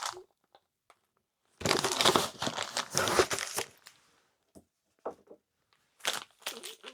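Plastic parts bags crinkled and crushed by hand while building an RC car, a dense crackling burst of a couple of seconds, then scattered soft rustles and a final short crinkle, close and fairly quiet.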